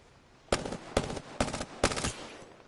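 Gunfire in a video game shootout: four close, loud bursts of rapid automatic fire, each lasting about a quarter second, evenly spaced against a quiet background.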